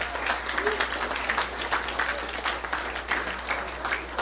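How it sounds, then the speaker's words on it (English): Applause from the audience at a city council meeting, a dense, steady wash of many hands clapping that stays loud and continuous throughout. "Again, another round of applause."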